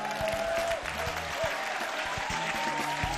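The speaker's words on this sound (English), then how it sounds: "Clap, clap, clap." Studio audience clapping to welcome a guest on a Nigerian talk show, a steady wash of applause lasting throughout, with a faint voice or tone briefly over it.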